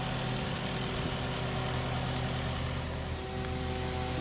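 A steady engine idles continuously, a low droning rumble with a constant hum, close and even in loudness throughout.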